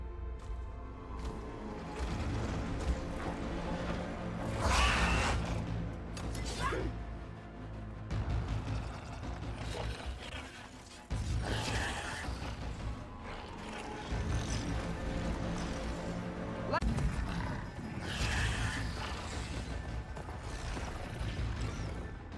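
Robotic machine creatures ridden by enemies in Horizon Forbidden West move and clank, with heavy mechanical whirs, thuds and crashing impacts rising and falling over dense game ambience for about twenty seconds, no voices.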